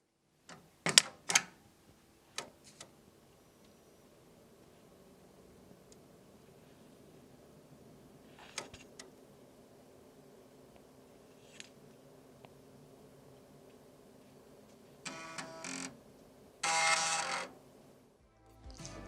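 A 66 MHz 486 computer makes its physical operating sounds: sparse clicks and ticks over a faint steady hum, with a short burst of whirring mechanical noise toward the end.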